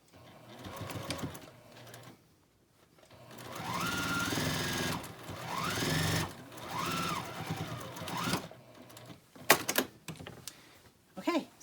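A sewing machine stitches the remainder of a quilt binding seam with a 1/4 inch seam allowance, running in steady bursts separated by short pauses, close and fairly loud, with a voice talking before and between the runs.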